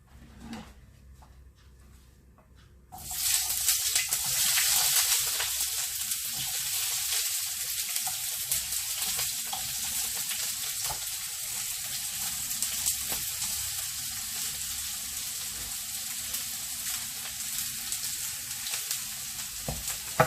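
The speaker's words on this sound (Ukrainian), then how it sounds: "І викладаємо на сковорідку. Олія обов'язково потрібно, щоб вже була розігріта." Chopped onion hits hot oil in a frying pan after a quiet start, bursting into a loud, steady sizzle that crackles on continuously at close range, with occasional stirring clinks and no talk.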